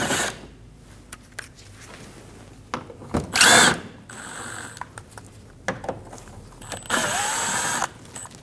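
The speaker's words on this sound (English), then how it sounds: "We're going to use a T25 bit and we're going to remove the 3 screws." Power driver fitted with a T25 bit backing out bumper screws on a 2012-2022 Volkswagen Passat, with two short, loud whirring bursts separated by quieter clicks and handling noise, close by.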